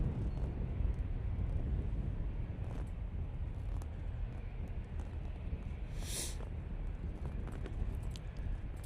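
An airliner takes off at Manchester Airport with a sustained broad engine roar, moderately distant and steady, with wind buffeting the microphone and a brief hiss partway through.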